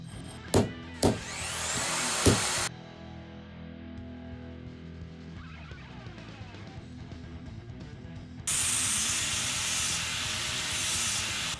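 Scrap metal is ground with a grinder mounted on a lathe. A few sharp knocks and a low mechanical hum come first, then a loud, steady grinding hiss starts and holds to the end.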